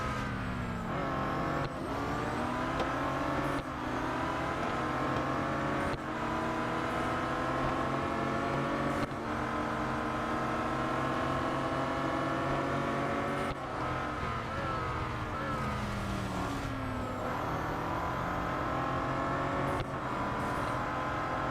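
Bentley Continental GT Speed racing in Real Racing 3, engine revving continuously with rising and falling pitch through repeated gear shifts, steady and fairly loud over about twenty seconds.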